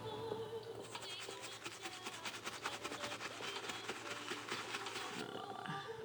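Soft brush scrubbing a dark navy Coach Legacy leather bag, a steady rapid back-and-forth rubbing rasp, close and fairly quiet, with no talk.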